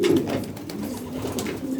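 A pigeon in a loft gives a soft, close, rolling coo, repeated in low throaty pulses over a faint background.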